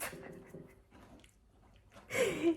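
A dog close by makes snuffling, chewing and panting noises in short bursts, ending with a louder huff.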